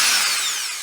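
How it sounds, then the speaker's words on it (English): Power drill boring through metal, a steady high-pitched whine with bright grinding hiss that slowly fades, close and alone. "we're drilling through metal"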